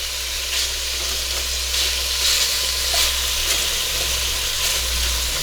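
Thawed frozen prawns fry in a hot pan with a steady, close sizzle that holds evenly throughout, broken only by faint crackles and a low kitchen hum beneath.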